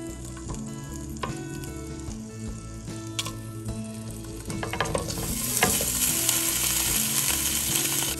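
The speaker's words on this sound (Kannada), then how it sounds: "ಪನ್ನೀರ್ ಗೋಲ್ಡನ್ ಬ್ರೌನ್ ಆಗೋವರೆಗೂ ರೋಸ್ಟ್ ಮಾಡೋಣ" Paneer cubes roasting in ghee in a pan give a steady, close sizzle with scraping stir clicks that grow louder and busier toward the end, over a low hum.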